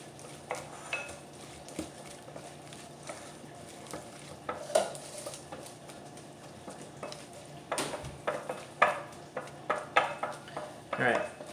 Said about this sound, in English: I'm gonna stir this really quick. Just gonna get everything wet.